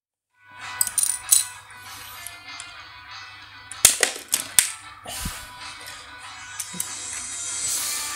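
Battle Phoenix B-daman toy firing marbles, several sharp clicking snaps with rattling marble hits and clatter, close and fairly loud, spaced irregularly with quieter handling noise in between.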